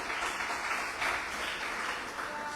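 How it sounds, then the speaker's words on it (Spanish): Church congregation at a Sunday devotional service applauds, a continuous wash of clapping at moderate level that swells slightly in waves without a break. "A ver, del aplauso fuerte al Rey de la Gloria."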